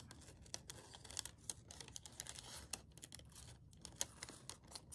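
Large scissors cut a straight line through fabric for a slow-stitch project, quick close snips and crisp rustling clicks repeating in a fairly regular rhythm, faint and without talk.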